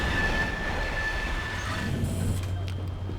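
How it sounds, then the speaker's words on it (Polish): Metro train in the video game Beyond Good & Evil rumbling past with a steady roar and a thin high squeal, rising to a low hum toward the end, with talk faintly underneath. "metro czy co to jest?"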